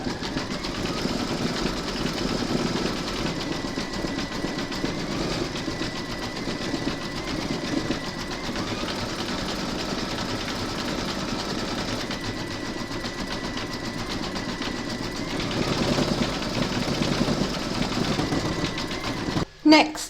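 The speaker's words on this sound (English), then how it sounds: "load your thread colour for that into your machine and then stitch round number 11" An embroidery machine stitching quilting on a zipper-top glasses case, its steady rapid mechanical whir running nearly continuously at close range before stopping abruptly near the end.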